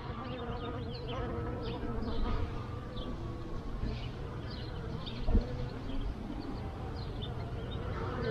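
Honey bees drone steadily around an open hive during a beekeeper's inspection, a dense close buzz that continues throughout with one brief louder knock midway.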